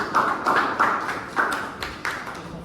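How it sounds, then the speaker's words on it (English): A Toastmasters club audience applauds as a speaker comes to the stage, a few separate sharp claps spaced irregularly, close and moderately loud, fading toward the end. "We have to stand and clap for him."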